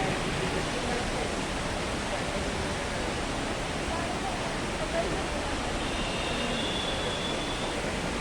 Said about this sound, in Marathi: फायनली आम्ही आलेलो आहे मेट्रो स्टेशनवर